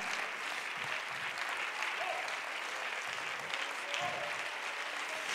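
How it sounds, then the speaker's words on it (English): A large church audience claps continuously, a broad, even roar of hand clapping sustained throughout. "let's give him a hand clap of praise"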